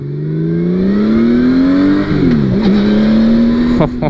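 A Honda Valkyrie motorcycle engine runs loud and close, its pitch climbing steadily as it revs, dipping briefly mid-way, then holding a strong drone before a final short blip.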